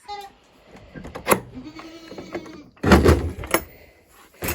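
Goats and sheep bleat a few times nearby while being given molasses grain, with short bursts of rustling and clattering between the calls.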